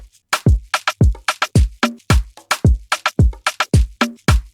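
Afrobeat drum pattern built in FL Studio, with punchy deep kicks, crisp snappy hits and shaker, looping in a bouncy, syncopated groove at steady volume with no voices.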